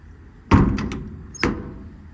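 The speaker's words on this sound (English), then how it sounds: "Now all these doors close, latch, lock, and obviously seal as they should." A metal compartment door on a 2019 International MV106 utility truck shuts with a solid thunk, followed about a second later by a second sharp latching clunk.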